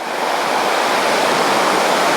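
A forest waterfall roars as a steady, loud, broadband rush of falling water, close by and continuous with no voices.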